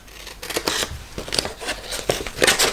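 Scissors roughly cutting out a printed paper sheet, a run of crisp snipping strokes at an irregular pace, close up and alone with no talking.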